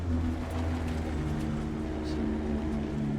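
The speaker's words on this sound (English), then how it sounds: "Here's a downshift." A race car engine in the VR game Dirt 2 hums steadily with a low droning tone that shifts pitch slightly during a downshift, moderately loud and continuous without speech.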